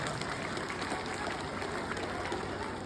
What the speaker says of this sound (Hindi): दोनों बच्चों के लिए जोरदार तालियां एक बार।